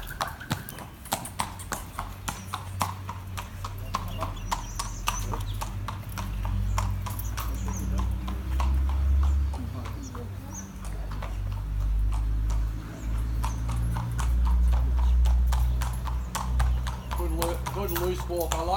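A filly's hooves clip-clop in a steady walking rhythm on a hard surface at an open day, with people talking over and around the footfalls throughout.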